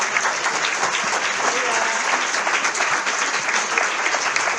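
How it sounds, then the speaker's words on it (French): Applause fills a hall at a conference plenary in Reims, steady dense clapping from a large audience holding at an even level throughout. "Je crois qu'on peut les applaudir."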